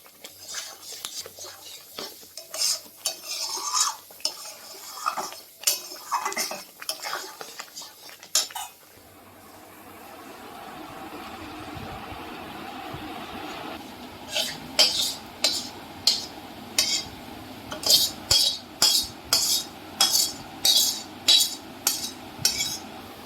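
Thickened ripe mango pulp being poured and spread onto plates with metal utensils, giving scattered clinks and scrapes, then a soft pouring hiss, then a quick run of sharp rhythmic taps against the plates, close by.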